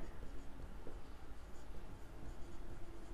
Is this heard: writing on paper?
yes